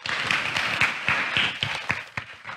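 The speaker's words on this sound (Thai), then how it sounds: "ขอเสียงปรบมือ" An audience at a Thai dessert startup workshop claps for a presenter, a short burst of scattered applause that thins out and fades over a couple of seconds.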